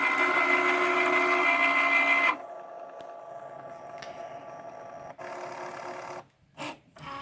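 A Cricut cutting machine scores a single line for a foil transfer, a steady mechanical whir that drops quieter partway through, then carriage movements and brief pauses near the end.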